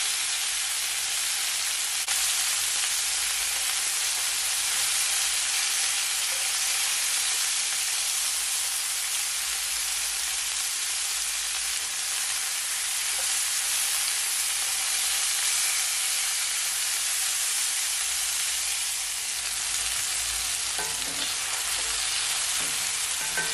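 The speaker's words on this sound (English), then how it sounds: "Don't turn it, just leave it to fry and seared." Meat searing in a hot pan gives a steady, loud sizzle and hiss of frying fat that runs unbroken and close with no talking.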